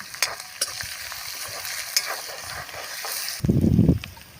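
Green chillies, curry leaves and asafoetida are stirred in a hot pan: a crackling fry with repeated scraping clicks, then a louder burst of stirring near the end.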